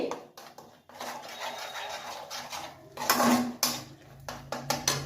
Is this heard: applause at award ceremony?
no